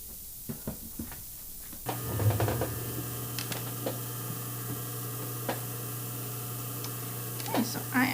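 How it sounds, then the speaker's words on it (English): A straight stitch sewing machine runs steadily for several seconds, reinforcing the corner of a fabric panty piece, with a few soft handling clicks before it starts. "I'm going to go to the straight stitch machine and I'm going to reinforce this point right here"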